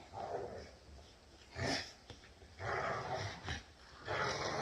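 Dogs scuffling and growling nearby, low rumbles broken by snorts and huffs, with bursts of noisy movement.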